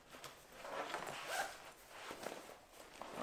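A zipper on a Cotopaxi Torre 24L bucket backpack being worked on an inside pocket, giving soft, scratchy rasps and rustles of fabric at close range over about three seconds, with no talking.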